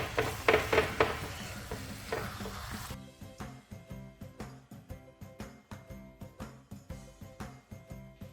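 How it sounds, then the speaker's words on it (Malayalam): Chicken pieces coated in ground pepper and garam masala sizzle and fry in a pan for spicy chicken chukka, with a dense frying burst at first, then steady rhythmic stirring scrapes repeating close up. "ഇനി 2-3 മിനിറ്റ് ഒന്ന് ഇളക്കി കൊടുക്കാം."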